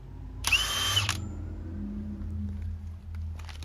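A power tool rattles loudly on a Land Rover wheel hub axle nut in a short burst, then the nut spins loose and the tool stops, leaving a faint mechanical hum.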